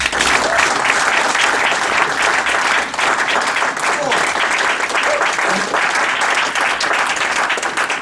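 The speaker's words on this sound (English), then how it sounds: "Thank you for this very, very warm applause." A workshop audience at a Toastmasters leadership event claps warmly to welcome the facilitator, a dense, sustained round of applause close by that continues throughout, with faint voices beneath it.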